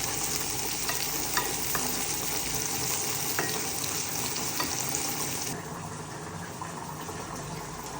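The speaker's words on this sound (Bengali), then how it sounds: "এই রান্নার চুলাই এই ছোলা ভুনা করে নিব" Chickpeas frying on a kitchen stove hiss in a continuous, dense sizzle, with occasional light clinks of stirring, close and fairly loud, quieting slightly near the end.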